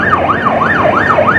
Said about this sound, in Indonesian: Ambulansnya udah jalan di depan